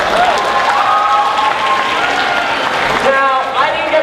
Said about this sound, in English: Let's give it a round of applause for these guys.